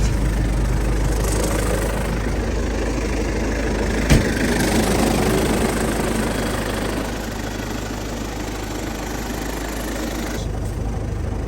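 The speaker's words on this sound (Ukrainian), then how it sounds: "Мотор холодний практично, без нагрузочки мастить." A cold MTZ tractor engine idles without load, steady with a low, even rumble and mechanical clatter, no revving, holding constant throughout with a brief knock near the middle.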